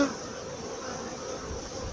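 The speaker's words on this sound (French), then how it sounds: "J'ai eu une fuite d'abeilles." Honeybees buzz in a steady, dense swarm during a beehive inspection, a continuous close hum with no talk over it.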